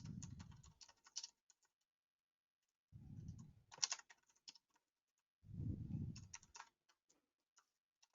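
Keystrokes on a computer keyboard come in three quick bursts of close, light clicking, each opening with a soft low thump and separated by short silent gaps.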